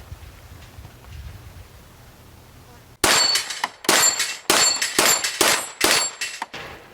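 A long-slide Glock pistol fires outdoors at targets. About eight sharp, loud shots come in quick succession after a quiet, windy start, each one ringing briefly.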